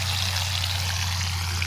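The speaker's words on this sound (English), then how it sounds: "Now we got water." Water runs steadily out of a gravity-fed detail water tank, a continuous close splashing flow with a low steady hum beneath it and no talking.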